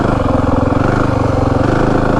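A 2025 Yamaha WR 450F dirt bike engine running close and loud, a fast steady throbbing pulse with a gritty mechanical buzz, held at high revs throughout the short stretch with no talking.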